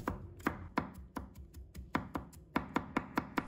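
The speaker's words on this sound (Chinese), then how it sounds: "再切成末。" Garlic being minced with a knife on a cutting board, a steady series of crisp, close chopping taps, some quicker than others, with no talking.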